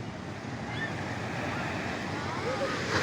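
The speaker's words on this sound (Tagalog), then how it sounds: "Pakalalaki ng alon mga kamay." Big ocean waves crash onto the shore in a continuous, loud, close roar of surf, with wind buffeting the microphone throughout.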